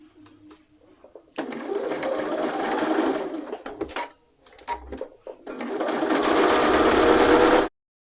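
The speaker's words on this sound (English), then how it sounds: "I'm going to sew all the way to the hem with a 3/8 inch seam allowance" A sewing machine runs a 3/8 inch seam allowance down a dress side seam from arm opening to hem, in two long steady bursts of whirring stitching split by a short pause with a few quiet clicks.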